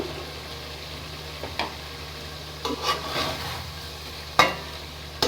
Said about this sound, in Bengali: এখন আমি এর সাথে 1 চামচ টক দই অ্যাড করলাম।